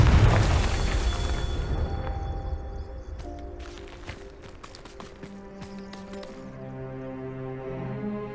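Confringo fire spell in Hogwarts Legacy, a loud booming blast at the start that fades into a rumbling tail, followed by scattered clicks and soft tonal effects.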